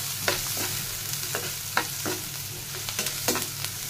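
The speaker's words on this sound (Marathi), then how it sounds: "कांदा आपल्याला छान असा स्लो गॅसवर परतून घ्यायचा आहे" Onion sautéing over low gas for prawn khima, a soft steady sizzle with repeated spoon scrapes and taps against the pan, close and without talk.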